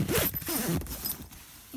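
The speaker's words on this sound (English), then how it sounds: "And I might even zip this one up for the video too." A tent door zipper on a rooftop tent is pulled shut in a few quick, rasping strokes, close to the microphone, with short pauses between pulls and no talking.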